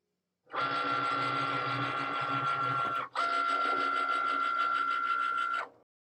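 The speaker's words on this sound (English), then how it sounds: "I have my double scoring wheel loaded, and I'm just going to load that mat up. And now it's going to score for me." An electronic cutting machine scores a material sheet on a mat with a double scoring wheel, two steady whirring, buzzing motor passes of about two and a half seconds each, separated by a brief pause.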